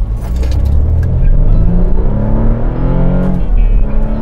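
BMW F30 running a bootmod3 tune, accelerating hard in automatic with a loud, close engine note climbing steadily through the gears, a brief dip marking a shift, and no voices.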